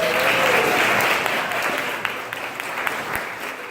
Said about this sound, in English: Everybody, please give these ladies a round of applause.